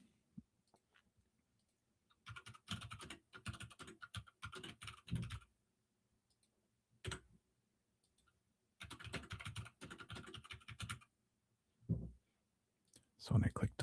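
Computer clicking and keyboard tapping during live app-building work, coming in quick bursts of close, light clicks separated by pauses.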